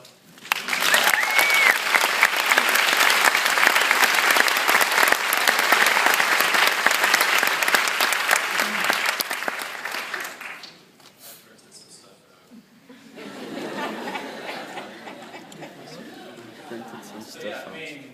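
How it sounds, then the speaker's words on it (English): Loud, sustained applause from a graduation ceremony audience fills the first ten seconds, then fades into a quieter stretch of scattered clapping and murmuring crowd noise. "I think we should give ourselves a round of applause"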